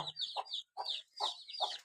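Farm chickens with a brood of chicks cluck in a series of short, nasal calls in quick bursts, close and clear over an otherwise quiet background.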